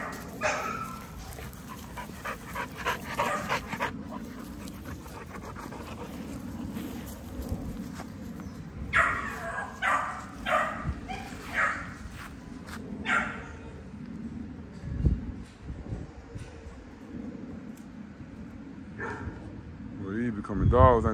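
Blue XL pitbulls scuffling and fighting, with repeated barks, growls and heavy panting close by, mixed with people talking and shouting throughout.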